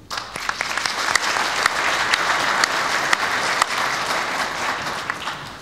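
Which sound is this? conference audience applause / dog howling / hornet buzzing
conference audience applause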